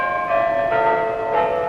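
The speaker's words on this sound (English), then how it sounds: "the chimes of the Kremlin clock echoed throughout Moscow's streets" Clock chimes of the Kremlin tower in Moscow ring out loud and resonant, a couple of sustained bell strokes with lingering tones, heard alone.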